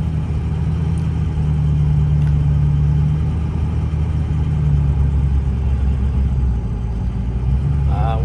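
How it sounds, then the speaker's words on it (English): A 2004 Ford F-350 Lariat 4WD with a 6.0L Powerstroke diesel and a 5-inch downpipe runs steadily throughout, giving a close, continuous low rumble with a constant idle, and a faint voice may come in near the end. "Truck sounds great."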